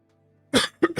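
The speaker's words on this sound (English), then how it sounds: "I keep coughing" A person with a stuffy nose, recovering from the flu, coughs three times in close succession: one longer burst followed by two short, sharp coughs, close and loud after a moment of near silence.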